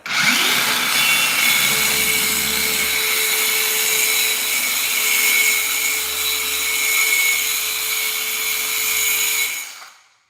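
Power saw cutting a board with no dust vacuum attached, one loud, steady, close whine lasting about nine seconds before spinning down to silence.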